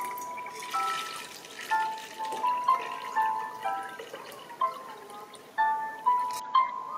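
Water being poured into vinegar for a homemade recipe, a trickling, gurgling flow in uneven bursts with drippy splashes, close and moderately loud, without talking.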